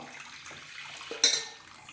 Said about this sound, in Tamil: அடுப்பில் ஒரு பேன் வச்சுருக்கிறேன் இதில் வந்து அந்த வெள்ளை போக வடிகட்டி எடுத்துக்கலாம்